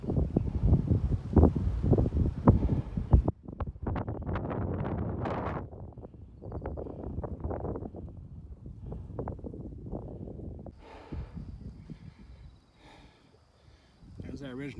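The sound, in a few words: strong wind on a ridge hike, Moanalua Valley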